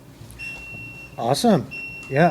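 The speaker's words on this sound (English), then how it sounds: "Got alarms going off." Electronic timer alarm set for a home beer brew day, beeping as a steady high-pitched tone that starts, drops out during a burst of speech, then returns, with people talking close by.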